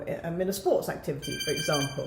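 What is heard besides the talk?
five-minute timer alarm ringing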